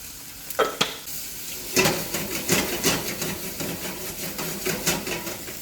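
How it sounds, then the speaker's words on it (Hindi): Paneer fries in oil in a kadhai, giving a loud, steady sizzle broken by repeated scraping stir strokes and a few sharp clinks near the start. "पनीर भी भून चुका है"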